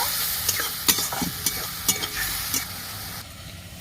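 Chili paste and cumin powder being sautéed in a pan for a Bengali yogurt fish curry, a continuous close sizzle broken by repeated scraping stirs, with no voices.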